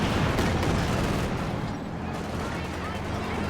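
A Katyusha rocket barrage in Company of Heroes 2 pounds the battlefield, a thick, roaring wall of overlapping blasts and gunfire, loudest at the start and easing slightly toward the end.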